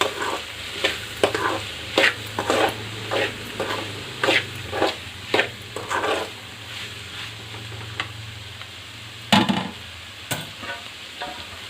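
Bitter gourd curry being stirred in a pan after salt goes in: rhythmic scraping strokes over a low sizzle, several in quick succession, then a pause and a couple of louder final stirs.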